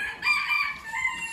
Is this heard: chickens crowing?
yes